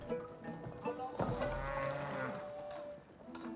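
Cattle lowing in the video game Age of Empires 4, several overlapping drawn-out moos in close succession over a farm-animal ambience, steady and fairly loud with no talk.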